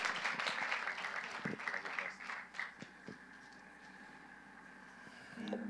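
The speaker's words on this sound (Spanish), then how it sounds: "quiero que recibamos con un fuerte aplauso a nuestro pastor Mike, que trae la palabra hoy." A church congregation applauds its pastor, a lively patter of many hands that thins out and fades, with some voices mixed in.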